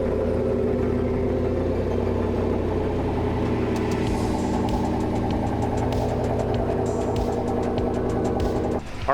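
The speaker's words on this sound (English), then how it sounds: "the truck is actually still running" A pickup truck engine idles steadily and continuously up close, a low droning hum with no talk over it, ending with a brief shift near the end.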